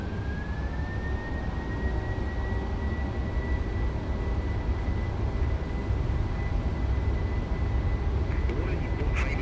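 Simulated airliner taking off from Osaka runway 32 left, a loud constant engine roar with a rising whine that settles into a steady high tone, and a few clicks near the end.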